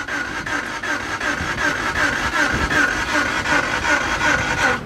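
An old car engine cranks and runs rough, with a steady, uneven mechanical chugging that pulses in a fast rhythm, close and fairly loud throughout.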